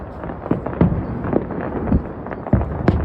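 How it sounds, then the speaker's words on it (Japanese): New Year fireworks bursting over Yokohama's Osanbashi pier, a run of sharp booming reports about every half second to second, fairly near and loud, with the crowd murmuring underneath. "綺麗に花火が見える。"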